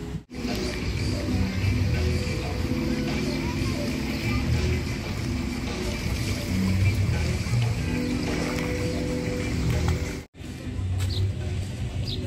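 Sea at a private Palm Jumeirah resort beach in Dubai washes in a steady, dense roar of surf and wind across the whole stretch, with a brief dropout near the end.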